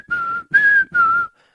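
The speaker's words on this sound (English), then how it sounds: "That's a dog whistle right there." A whistled sound effect of three sustained, steady tones, each lasting about a third of a second with short gaps between them, loud and clear with no other sounds.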